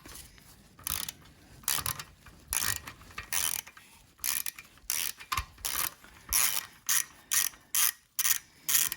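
A ratchet works an exhaust bolt loose on a 2023 KTM 390 Adventure, its pawl clicking out in repeated quick bursts separated by brief gaps, close and distinct, with no talking.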